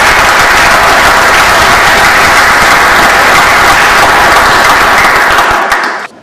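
Audience bursts into loud, dense applause, continuous close clapping from many hands that holds steady before cutting off abruptly near the end.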